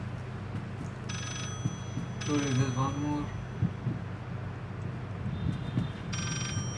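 A phone rings in the horror video game Layers of Fear, sounding in repeated bursts of bell-like trilling over a low droning hum while a person talks through part of it.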